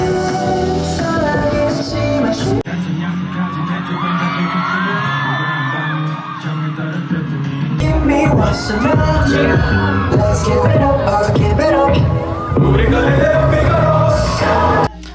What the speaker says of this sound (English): The screams started becoming feral